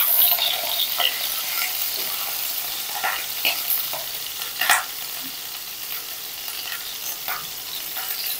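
Pointed gourd (potol) frying in hot oil makes a steady, close sizzle, broken by occasional light clicks and scrapes of stirring. No one speaks.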